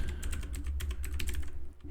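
Commands being typed on a computer keyboard, a quick, steady run of close key clicks over a low hum, with no talk.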